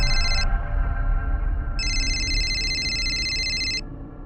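A telephone rings with an electronic, tonal ringtone in two bursts, a short one and then a longer one, over a low rumbling background with no voices.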